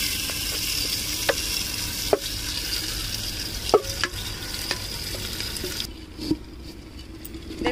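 Mutton pieces added to browned onion and fried ginger in a large pot, a steady sizzle with scraping stirring strokes and occasional clinks, close and moderately quiet, no talking.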